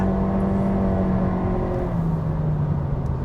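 A 2022 Honda Civic sedan with a CVT, switched into sport mode, revs its engine with a steady, close, loud hum that holds its pitch and then dips slightly, heard alone without talk.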